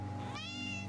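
A single short meow from a cat, rising in pitch, heard close and fairly quiet.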